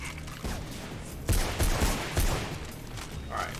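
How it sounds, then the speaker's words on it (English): Machine gun fire in the video game Mirror's Edge, a few loud staccato bursts of shots in quick succession amid a noisy, echoing action scene, no talk. "they have a goddamn machine gun"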